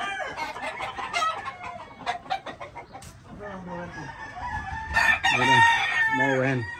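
A fighting rooster clucks and crows repeatedly at close range, with rising harmonic calls near the end and a busy farmyard background.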